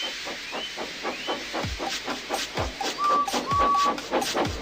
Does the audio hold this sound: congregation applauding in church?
no